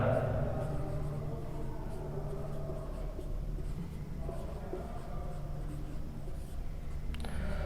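Chalk or marker writing on a board during a physics lesson on Ohm's law produces faint scratchy strokes, soft and intermittent, over a steady low room hum.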